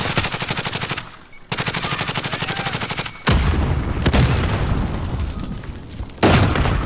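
Rapid automatic gunfire from a team shooter video game, two long bursts of close, loud shots followed by heavier blasts and rumbling, then another burst at the end, with no talking.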